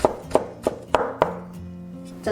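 A knife chops a small piece of ginger on a cutting board, giving about five sharp, evenly spaced knocks at close range with no speech.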